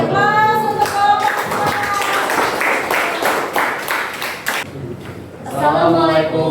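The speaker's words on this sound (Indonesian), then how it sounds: "Beri aplaus untuk kelompok." Classroom applause for a presenting student group, a burst of many hands clapping for several seconds, with voices speaking before and after it.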